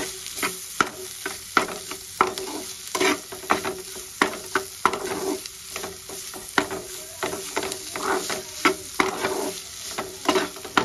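A spatula stirs grated paneer filling in a hot pan, giving repeated scraping strokes at a steady pace over a continuous close sizzle of frying.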